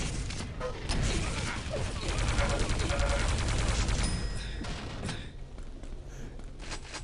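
Plasma gun in a Quake Live match, firing in rapid continuous mechanical bursts that are loud at first, then thin out to scattered shots toward the end.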